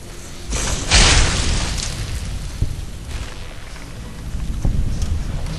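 Incinerator weapon firing in Fallout New Vegas, a loud booming whoosh of flame near the start that fades into a rumbling roar, followed by further dull thuds and a crackling wash, with no talking over it.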